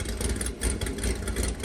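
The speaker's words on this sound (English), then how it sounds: "there are few things in this world better than hearing an LS with a big ass cam in it at idle" An LS V8 fitted with a big camshaft idles steadily, its lumpy, loping rumble continuous and close, with no voices over it.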